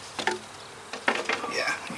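A few remaining honey bees buzz faintly around a hive box fitted with a feeder, with soft, intermittent flurries of wingbeats over a quiet background.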